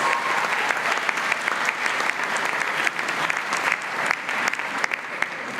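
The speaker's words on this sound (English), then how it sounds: "That deserves a round of applause." A graduation audience at a Murdoch University Dubai ceremony claps steadily and fairly loudly for several seconds, a dense even wash of many hands with no voices rising above it.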